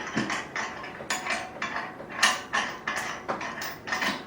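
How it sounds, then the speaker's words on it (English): Hand-cranked pasta machine clamped to a kitchen counter, its clamp being tightened: a run of short ratcheting, creaking mechanical clicks and turns, fairly close and moderately loud, roughly ten distinct bursts in steady succession with no talk. "tighten up the clamp"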